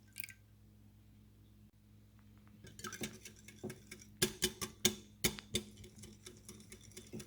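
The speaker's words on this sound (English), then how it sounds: "eggs, milk, a little bit of salt, flour, and just a tiny bit of baking powder. And that just gets all whisked up together and that makes our batter." Whisk beating a batter of eggs, milk, salt, flour and baking powder in a bowl, sparse light taps building into rapid irregular clinks and scrapes, close and fairly quiet with no talk.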